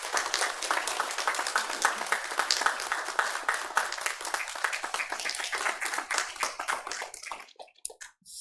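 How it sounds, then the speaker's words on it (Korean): Church congregation applauding at a Sunday worship service after an appointment is announced: dense, sustained clapping from many hands for about seven seconds, then tapering off into a few scattered claps. "우리 뜨겁게 박수로 하도록 하겠습니다"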